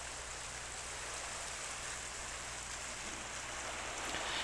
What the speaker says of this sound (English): check out that great little creek that just goes right through town